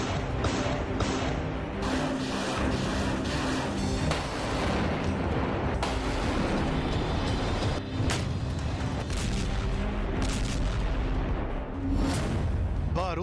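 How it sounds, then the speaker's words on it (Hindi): Artillery shelling pounds a war zone in Ukraine with dense, continuous booms and rumbling blasts over about thirteen seconds. The roar is loud and chaotic, with sharp cracks punctuating it and faint voices in the mix. "बारूदी धमाकों से फिर दहला यूक्रेन।"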